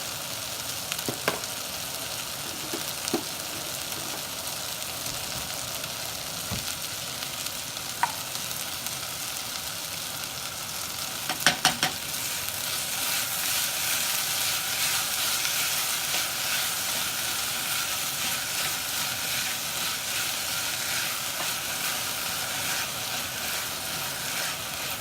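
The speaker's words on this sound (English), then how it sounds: "once these onions and potatoes are sauteed" Onions and potatoes sautéing in a pan for upma, with a low, even sizzle running throughout and a brief rattle of stirring partway through, close but fairly quiet.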